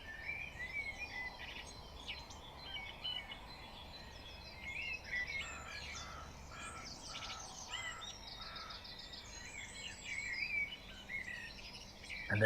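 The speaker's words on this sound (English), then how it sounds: "just hearing so many birds early in the morning" A dense dawn chorus of many bird species chirping and trilling together in the Forest of Dean, England, with an occasional crow cawing, steady and moderately distant throughout.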